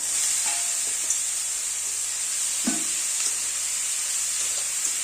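Boiled peas and potatoes frying with onions in a pan, a steady bright sizzle with a few soft stirring scrapes and bumps, close and continuous.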